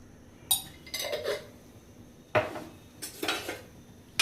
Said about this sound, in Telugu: ఇవన్నీ ఒకసారి కలిపి తిప్పుకోనండి